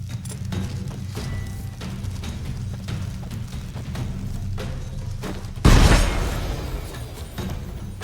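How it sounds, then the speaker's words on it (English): A bomb thrown in combat in The Witcher 3 bursts with a single loud, close boom about two-thirds through, rumbling off after steady background clatter and battle noise. "Throw a bomb."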